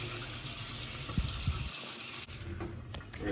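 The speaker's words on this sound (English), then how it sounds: "we're gonna drain this liquid out of here. All right, dump out the juice." Venison cooking juice is poured out of a crock pot into a sink, a steady splashing gush of liquid close by, with a couple of brief clunks partway through.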